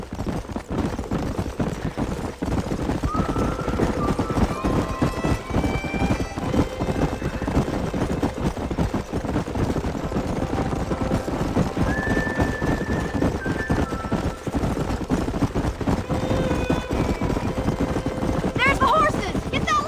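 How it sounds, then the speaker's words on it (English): Horses galloping with steady clip-clop hoofbeats and occasional whinnies on a ranch in Red Dead Redemption, a continuous busy mix with music-like tones and ambient game sound underneath. "There's the horses!"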